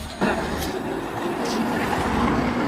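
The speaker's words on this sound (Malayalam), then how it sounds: "പൈലറ്റ് കാർ വരുന്നുണ്ട്." A pilot car comes along a road ahead of marathon runners at the Spice Coast Marathon in Kochi, giving a steady loud rumble of engine and traffic noise with brief clicks.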